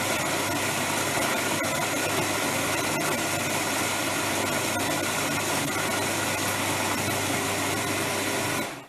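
An electric chopper grinds nuts for marble burfi, a vegan sweet. Its steady, loud motor whine runs without a break for about nine seconds and then cuts off abruptly.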